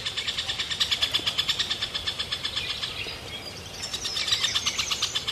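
A woodpecker and its chick call near a nest hole in the Karacabey floodplain forest, Turkey, rapid repeated high chirps in a steady pulsing rhythm, close and fairly loud, with a faint engine hum beneath.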